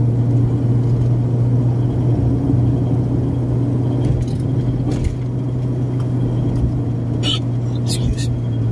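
Steady low engine rumble and road hum inside a moving car, continuous and close, with faint jangles and a few brief higher clicks; a voice speaks over it.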